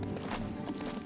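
Horse hooves clip-clop steadily beneath Namor riding in Lemuria in LEGO Marvel Super Heroes 2, the footfalls blending into a busy game soundscape with a faint whinny.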